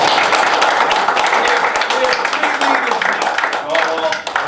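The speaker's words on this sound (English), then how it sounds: "I think Steve should get a round of applause for all of our" A group applauds its leader, a dense patter of clapping that runs steadily through the whole moment, mixed with cheers and voices talking over it.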